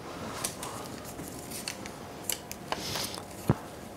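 Plastic cup draw balls are shuffled together, producing light clicks and knocks in a loose, irregular patter, fairly quiet and close, with one sharper clack near the end.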